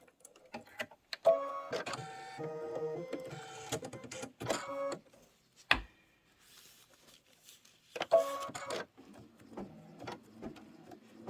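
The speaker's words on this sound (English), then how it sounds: "This is going to be 2 minutes of stitching." A Kimberbell embroidery machine stitches a New Year confetti design in rapid mechanical bursts, each run of whirring needle strikes separated by brief pauses, close and steady with no talking.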